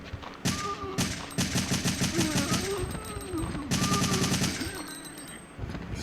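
A large-magazine gun in a zombie video game fires long rapid automatic bursts, loud and rhythmic with short pauses between strings of shots, and a faint voice underneath.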